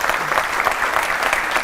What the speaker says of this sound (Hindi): जी हां, तालियां बजाइए देखिए उनके लिए।